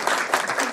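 Short burst of audience clapping at a special educational film screening, steady and moderately loud with no voices over it.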